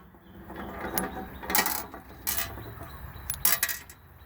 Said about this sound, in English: So what I do is I use the back end of a screwdriver, nothing too hard, pushes them up